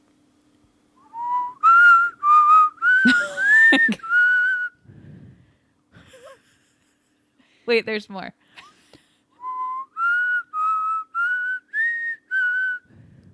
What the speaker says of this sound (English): I only know how to whistle inhaling